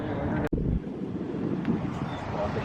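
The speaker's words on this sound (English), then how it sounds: "It's windy today" Steady wind at a flea market buffeting the microphone, a low broadband rumble throughout with one brief dropout near the start.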